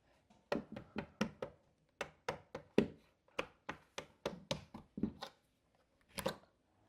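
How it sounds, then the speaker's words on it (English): Sharp metallic taps land in quick bursts, a hammer striking a small punch against a door hinge pin about twenty times, close by, with short pauses between groups. "What I'm using is just a small punch with a hammer here"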